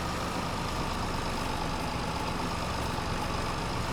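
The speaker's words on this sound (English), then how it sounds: "Just drive the bloody tractor." A tractor engine in the farming game Farming Simulator 22 drones at a steady, loud low rumble like a heavy diesel idling, continuous and unchanging with no voices over it.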